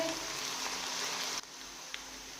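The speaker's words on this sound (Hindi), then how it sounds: "अब हम इसमें अदरक लहसुन का पेस्ट डालेंगे। इसे हम थोड़ी देर फ्राई करेंगे।" Ginger garlic paste fries with golden brown onions in a pan, giving a steady, close, hissing sizzle that dips slightly partway through, with a faint tap near the end.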